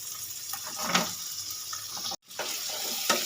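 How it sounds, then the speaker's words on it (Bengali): Tomato, onion and green chilli fry in a pan with a close, crackling sizzle and light stirring. The sound cuts out for a moment, then resumes. "টমেটো পেঁয়াজ কাঁচা লঙ্কা ভালো ভাজা ভাজা হয়ে গেছে এবারে দিয়ে দেব আলু"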